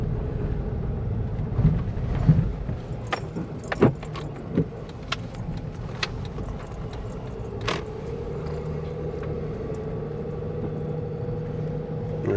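A car drives slowly around Geroskipou, its engine a steady low rumble throughout, punctuated by a few close clicks and small knocks from inside the cabin.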